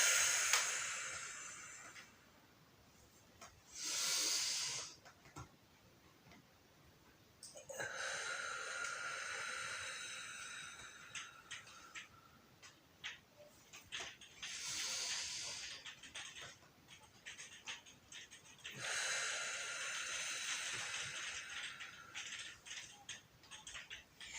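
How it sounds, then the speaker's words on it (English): Slow, deep breaths during a stretching breathing exercise, with long airy inhales and exhales in separate bursts of several seconds, quiet and close with pauses between them and no talking. "we're going to take our breaths in, breathing in, stretching up and breathing out"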